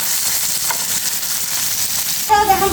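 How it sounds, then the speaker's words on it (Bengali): Hilsa fish sizzles as it fries in hot oil in a pan, a loud, continuous crackling hiss close by that briefly jumps near the end as the pan is stirred. "আর এই মাছটা কিন্তু বেশি সময় ভাজতে হয় না"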